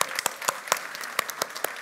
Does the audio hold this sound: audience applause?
yes